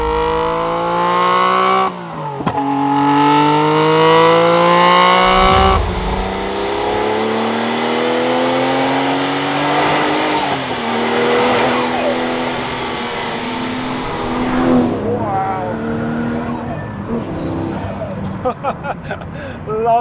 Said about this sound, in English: it actually sounds quite like a boxer engine